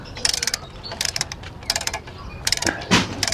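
A ratchet wrench loosens a bolt in bursts of rapid clicking, four separate runs of close, crisp pawl ticks with short pauses between them.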